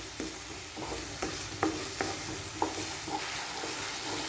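Pumpkin cooks down with sugar for halwa in a hot pan, a soft sizzle under a series of sharp scrapes and taps as a spoon stirs it, each stroke distinct, and no one speaks.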